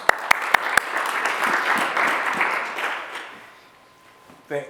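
Audience applause at a history presentation, opening with a few sharp, distinct claps that swell into a full round of clapping, then fading away before a voice speaks at the very end.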